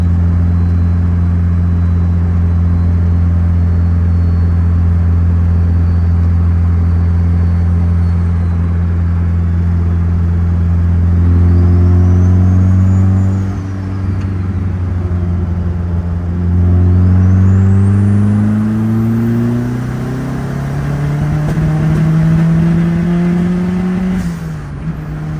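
A turbocharged Mazda Miata running an E85 tune, heard from inside while driving: a loud, steady engine drone that climbs in pitch through the gears as it accelerates, with turbo whine and brief dips between pulls.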